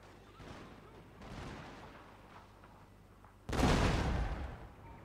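Cannon artillery fire in the video game Shogun 2: Total War, a single heavy, booming blast rolling out after a stretch of low, muffled battlefield rumble.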